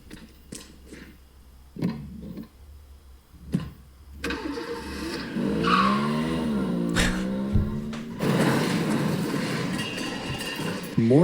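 A cartoon car's engine clicks and sputters, then revs loudly with a wavering, swooping screech like tires skidding, and finishes with another burst of rough engine noise.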